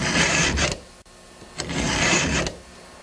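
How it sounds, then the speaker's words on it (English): Hand file sharpening chainsaw chain teeth, two close, even rasping strokes separated by a short quiet gap, scratchy and bright with no talk. "put a bit of pressure on the file only when you're pushing forward"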